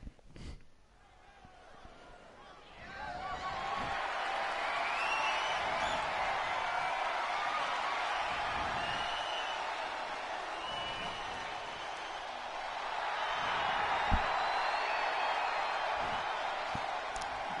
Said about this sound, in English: this crowd is on their feet for Bayley as she makes her way to the ring